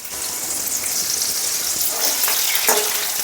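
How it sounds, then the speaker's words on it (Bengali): Potato pieces fry in hot oil for a jackfruit-seed kofta dish, a steady close sizzle with a few soft clinks and stirs near the end. "আলুটাকে ভেজে নিচ্ছি।"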